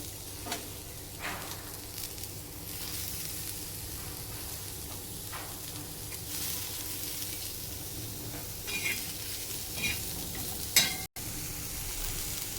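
Chopped onion roasts in a spoonful of oil for a masala filling for stuffed bitter gourd. A steady, soft sizzle carries on throughout, with occasional light scraping from a stirring spoon.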